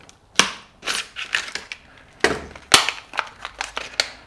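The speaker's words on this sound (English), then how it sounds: "Get a knife to open it up. Why is everything coming in plastic packaging these days?" Hard plastic packaging for a MIG welder liner being cut and torn open with a knife, a string of close, sharp crackling snaps and crunches in uneven bursts, no voices.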